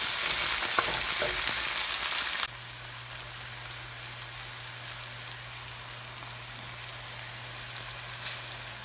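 Chopped green onion and mixed peppers frying in a pan, a loud bright sizzle with stirring scrapes at first, then dropping to a steadier, quieter crackle with a low hum underneath.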